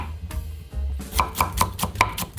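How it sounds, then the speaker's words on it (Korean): A knife julienning a hard carrot into thin strips on a cutting board makes a rapid, steady series of crisp, close chops, with a few slower strokes before the rhythm settles in. "얇게 채 썰 거예요."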